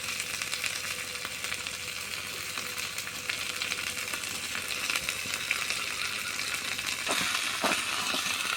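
Gima shak greens sizzle and crackle in a hot pan, salted, in a village-style kitchen. The frying hiss is steady and close, with a few scraping stirs near the end.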